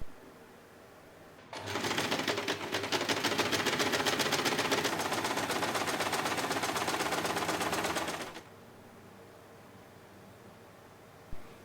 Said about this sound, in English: sew along the edges